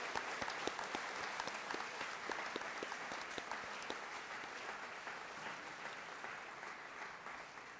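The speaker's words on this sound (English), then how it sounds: "Let's give them a round of applause for all they do for this organization." Sustained applause from an audience at the 2016 Arkansas 4-H State O-Rama awards ceremony, thanking the evening's sponsors; dense steady clapping with a few sharper claps near the start, gradually easing off toward the end.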